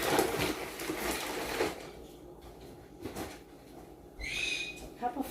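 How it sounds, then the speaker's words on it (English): Pet birds chirp in the background of a home kitchen during baking, with one short, bright burst of chirping near the end over quiet household noise. "Pardon my birds going off in the background."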